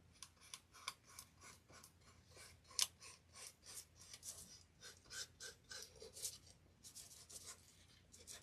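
Sandpaper works by hand around the feathers of a wooden turkey door hanger, a faint, close series of short rhythmic rasping strokes that repeats steadily throughout.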